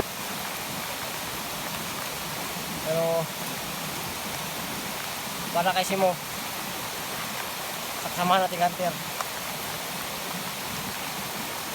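Heavy rain pours down as a constant, dense wash of noise, with someone speaking briefly over it a few times.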